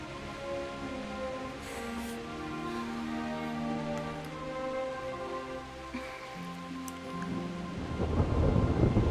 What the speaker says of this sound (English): Not afraid of thunderstorms, are you?